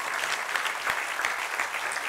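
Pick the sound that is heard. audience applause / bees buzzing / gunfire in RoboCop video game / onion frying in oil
audience applause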